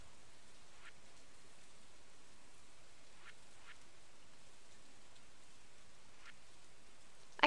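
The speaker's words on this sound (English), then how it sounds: "It is raining." Steady, soft rain hiss in Stardew Valley holds throughout at low volume, with a few faint light taps scattered through it and no voices.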